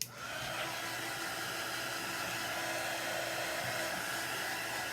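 A hair dryer drying ink on a rustic craft sign, switching on abruptly and then blowing as a steady, close, continuous airy roar with a faint motor hum underneath, no talking.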